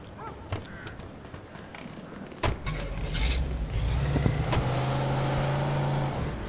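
A car driven in the video game Mafia 2, its engine hum steady and mid-level, building slightly as it drives on, with a few sharp clicks and knocks early on.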